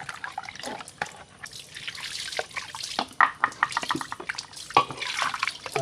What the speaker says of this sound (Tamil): கழுவுறேன் நான்.